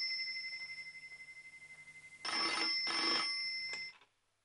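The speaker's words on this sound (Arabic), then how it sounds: "اديني التليفون انا اللي هكلمها" A telephone rings with a steady, repeating electronic trill, then a louder, busier burst of ringing before it cuts off to silence, heard on its own as a call goes through.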